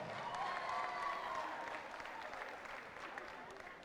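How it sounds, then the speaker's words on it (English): Crowd applauding in a gym at a high school boys basketball senior night ceremony, a steady broad wash of clapping that fades slightly toward the end, with voices mixed in. "Once again, how about a round of applause?"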